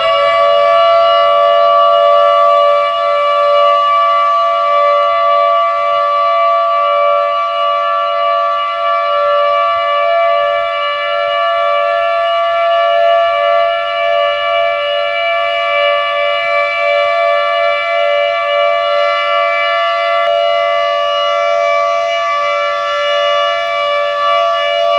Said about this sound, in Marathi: 10:59 सायरन वाजवण्यात आले